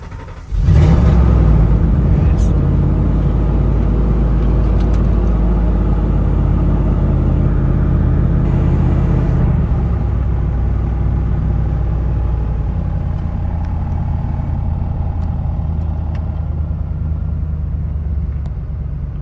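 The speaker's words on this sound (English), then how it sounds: "Just idle's kind of high. I'm gonna give it some gas." A 1992 Ford F-150 truck engine with a high idle revs up from a standstill, loud and close, then holds a steady rumbling drone for about twenty seconds with no talking over it.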